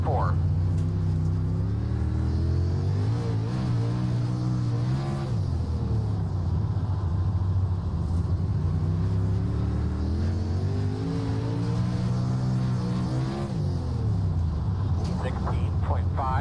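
Dirt late model race car in iRacing at Lincoln Speedway, engine droning steadily at throttle with rising and falling pitch along the bottom of the track, loud and continuous, with someone talking over it.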